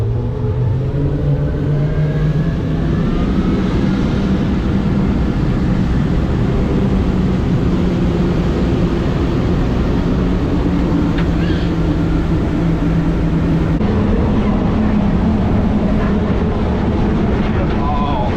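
A 42-foot Freeman boat's engines roar steadily as it takes off on a sea trial, a loud, continuous drone with rushing wind and water noise throughout.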